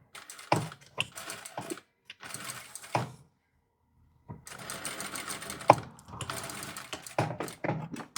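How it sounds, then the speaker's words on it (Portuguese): A sewing machine stitches a half-centimetre seam holding a pleat on a women's dress shirt, running in quick mechanical bursts separated by short pauses, close and clear, with no speech. "E vou passar uma costura aqui,"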